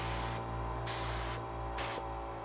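Air compressor spray gun spraying paint onto a bike at about 30 psi, loud hissing bursts in three or four spurts separated by short pauses over a steady background hum.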